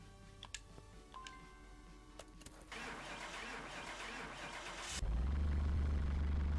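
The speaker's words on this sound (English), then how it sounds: "Dang, this car is loud." A car engine starts up in the Car Mechanic Simulator 2021 video game: soft clicks and ticks, then a cranking whir that catches into a loud, steady, close idle rumble.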